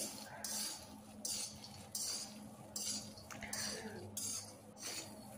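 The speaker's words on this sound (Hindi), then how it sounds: "मखाने को भी हमें अच्छे से धीमी आंच पर भूनना है लगातार चलाते हुए" Makhana (fox nuts) being stirred while roasting over low heat in a pan, with a spoon scraping and clinking against metal in a steady rhythm of strokes roughly every second, close up, under a faint background hum, with no talk.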